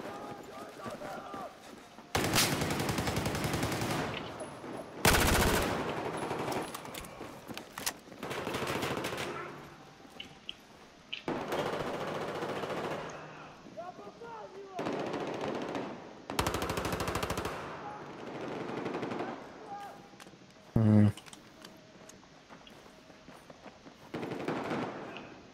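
Bursts of SR-2 submachine gun fire in Battlefield 4 on the Golmud Railway map, loud rapid volleys broken by short pauses, with players talking over the gameplay.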